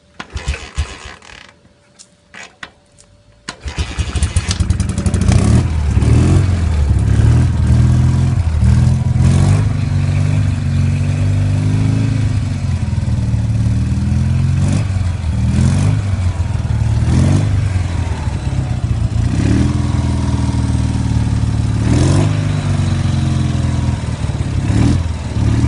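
A BMW motorcycle engine, on a classic bike, kick-started after a brief quiet pause, then catching and running steadily at idle with a loud, even mechanical rumble and occasional small revs throughout.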